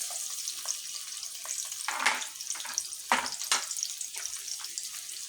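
A bowl of chopped onions dropped into hot white oil for a chicken curry, giving a steady close sizzle broken by several louder bursts and scraping stirs.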